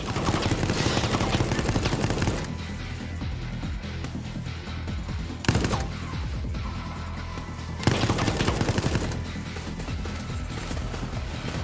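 Heavy automatic gunfire from a small gun in the Resistance beta shooter game, a dense continuous rattle with louder bursts near the start, middle and end, close and loud without any talk.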